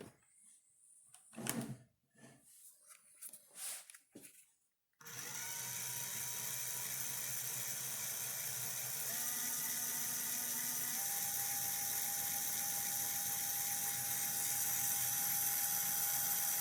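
A small rod-building motor driven by a cheap wireless speed controller starts after a few soft clicks and handling noises, then hums steadily and closely, its whine holding level with slight shifts in pitch.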